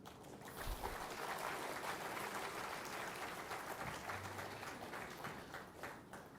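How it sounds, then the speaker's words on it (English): Graduates at a degree ceremony applaud together in a dense, sustained round of clapping that fills the hall, fairly distant and even throughout with no talk over it. "give yourself a well-deserved good round of applause."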